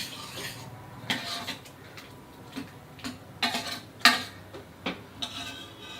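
Mashed pumpkin sabzi being mixed with amchur powder in a pan, heard as close, scattered clicks and knocks of a spoon against the pan over a quiet background.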